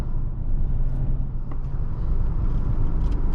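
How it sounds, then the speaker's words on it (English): A 1997 BMW 320i M-Sport Touring engine drones steadily while driving, with a smooth, even low rumble from inside the cabin and no talking. "The engine's just consistent and smooth, communicative."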